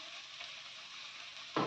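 Ginger garlic paste frying in a pan, a close steady sizzle with a brief louder stir near the end, no talk.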